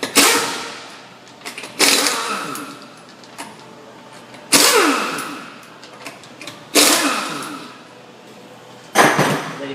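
Impact wrench rattling off 19 mm lug nuts from a Ford Escape wheel, four loud bursts of rapid hammering buzz, each decaying as the nut spins free, separated by short pauses.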